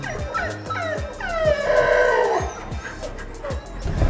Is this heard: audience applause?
no